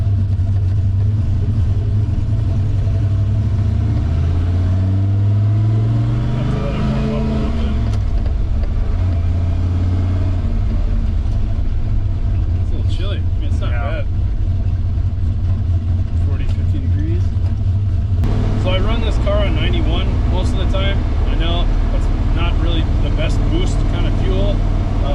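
The KA24DE-swapped Datsun 510's four-cylinder engine runs loudly and close, with a steady idle and a couple of rising revs, while someone talks over it.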